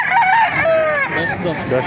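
A rooster crows up close at a chicken market in Baliuag, Bulacan, a long, loud, wavering call that fills the moment, with a few clucks and shuffles around it.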